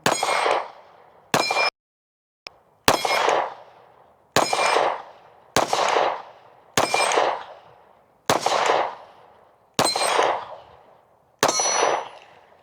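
Bullets striking steel dueling tree targets fired from a Canik Mete MC9 pistol, with about nine sharp ringing clangs, each decaying over a second, spaced irregularly at a range with no talking.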